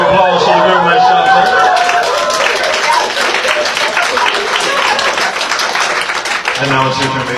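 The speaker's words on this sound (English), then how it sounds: "Round of applause for the room" An audience in a room breaks into loud, sustained applause, a dense wash of clapping that carries on for several seconds, with voices and singing from a lively performance woven through it.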